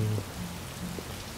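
Steady rainfall patters in the video game Detroit: Become Human, a soft, even wash of drops on surfaces with a faint low tone at the start.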